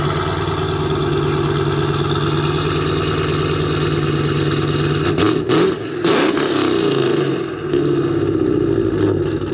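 A loud Dodge Challenger Hellcat engine roars and revs while driving, heard up close and steady, with a brief dip and surge as the throttle changes.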